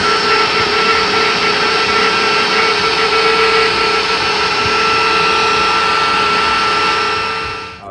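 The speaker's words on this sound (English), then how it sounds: "And then I'll take it to the CNC." A CNC machine carving a photo V-carve into pine wood gives a loud, steady whine with a constant pitched hum that holds evenly for several seconds before cutting off at the end.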